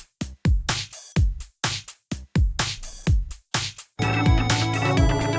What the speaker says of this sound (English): Like this track is supposed to sound like this beat here.